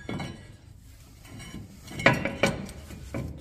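Brake rotor being fitted back onto the hub of a 2004 Ram during a hub replacement: quiet metallic handling with a couple of sharp clinks and scraping contact, close by, amid faint workshop background.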